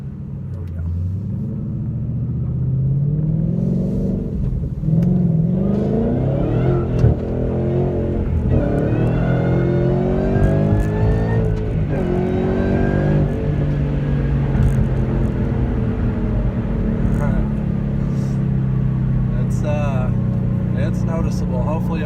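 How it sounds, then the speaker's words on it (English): 2013 Roush supercharged car pulling hard through second and third gear, a loud steady engine roar climbing in pitch with a thin rising supercharger pulley whine layered on top, continuous and close throughout. "I want to just listen to the pulley sound you can get in second and third"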